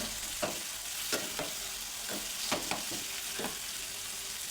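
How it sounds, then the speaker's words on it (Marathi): Finely chopped tomato sautéed in a pan for matki usal, a constant close sizzle broken by repeated spatula scrapes and stirring strokes at an irregular pace. "बारीक कट केलेला टोमॅटो तो पण आपण परतून घेऊया 1 ते 2 मिनटं नरम होईपर्यंत"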